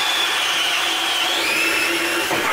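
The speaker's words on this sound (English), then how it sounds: "Let's do a quick test with a DeWalt cordless drill." A DeWalt cordless drill spinning an IRWIN SPEEDBOR spade bit through wood, a loud continuous motor whine lasting a couple of seconds, heard close and alone without added pressure.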